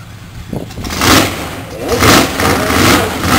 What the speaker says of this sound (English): Alcohol using supercharged Hemi, 1973 Dodge Challenger.